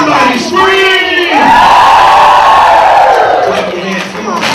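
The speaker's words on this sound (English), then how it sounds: "Somebody scream!" A crowd of adults at an early childhood conference scream and whoop together in one loud, sustained burst after a call from the stage, swelling and then fading over a few seconds.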